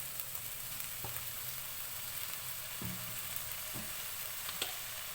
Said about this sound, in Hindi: 5 मिनट मैंने सब्जियों को चिकन के साथ फ्राई किया है।